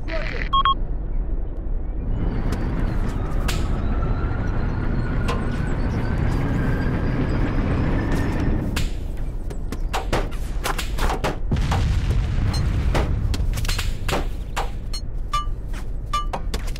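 Repeated heavy booming tank cannon blasts in the video game Arma, with sharp transients over a constant low engine rumble, several shots spaced irregularly across the clip.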